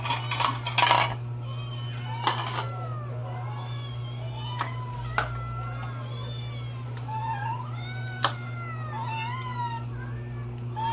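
Several cats, more than eight, eat cat food mixed with vitamin and dextrose powder from dishes, with clinks and taps of bowls, scattered meows and a steady background hum, and a voice speaking at times.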